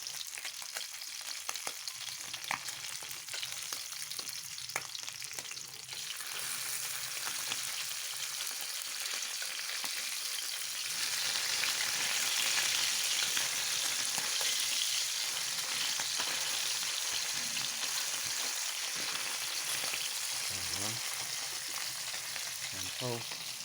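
Food sizzles and fries in a pan while lunch is cooked at home. The crackle is steady and close, and it swells louder in the middle with occasional stirring clinks.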